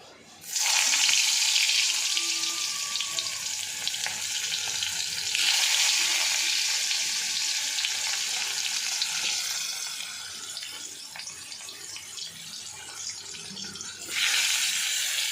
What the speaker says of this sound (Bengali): মেখে এবারে ভাজবো।